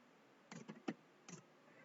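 A few quiet keystrokes on a computer keyboard, a quick cluster of three or four taps followed by one more after a brief pause, faint against a low background hiss.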